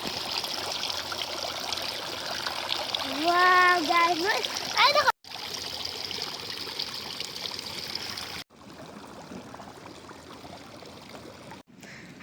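A hand splashes and stirs cold water in a temple pond, a close, steady trickling wash with brief louder splashes, while a voice talks over it before the sound cuts off.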